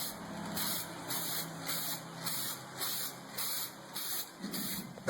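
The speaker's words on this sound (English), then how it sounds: "we're going to spray paint all the hardware as well" Close, hissing spray from a spray paint can painting generator hardware comes in about six short, rhythmic bursts, each a sharp airy whoosh.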